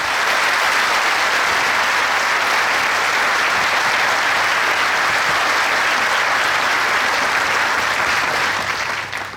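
Loud, continuous crowd applause at a PIT-CNT union rally in Uruguay for a speaker, a thick unbroken roar of clapping that holds steady and fades briefly at the close.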